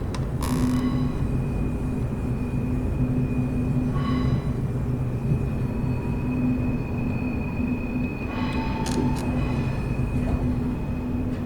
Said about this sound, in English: you could hear some wheel flange there